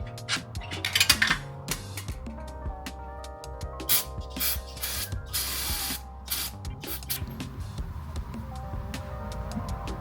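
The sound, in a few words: tightening exhaust downpipe bolts with an impact wrench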